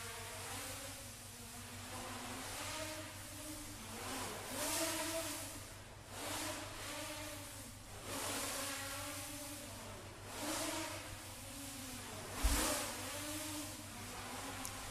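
Model quadcopter weighing just under a kilogram with four powerful motors, flying with a buzzing whine that repeatedly rises and falls in pitch as it throttles through aggressive maneuvers, moderately near, with a brief thump near the end.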